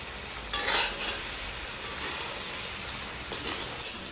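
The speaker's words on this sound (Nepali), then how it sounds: "अब यो पनि भुटुवामा मिसाइदिने अनि पटपटी भुट्ने मिठो हुन्छ" Chyangra goat meat bhutuwa sizzles steadily in a hot pan for Dashain, with a few louder bursts of spatula scraping and stirring over a continuous close frying hiss and no talking.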